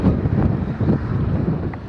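Wind blows across desert sand, a loud, close, buffeting rumble as gusts hit the microphone throughout.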